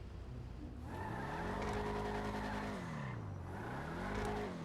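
A rear-wheel-drive Vigero ZX muscle car in GTA 5 Online is pushed against a wall, its tires squealing in long wavering whines over a steady engine roar that rises and dips twice.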